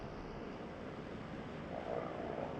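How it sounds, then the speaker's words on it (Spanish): A motorcycle roaring past on a city street at night, a loud, steady engine drone that swells slightly toward the end, heard alone without talk. "Esa moto, Dios."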